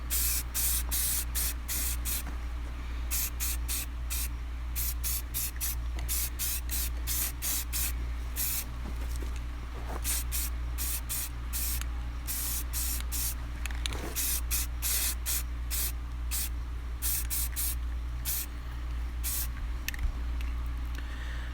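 Aerosol can spraying semi-gloss black paint onto car headlight housings, a close steady hiss broken by many short bursts of varying length, repeated throughout with brief pauses between passes.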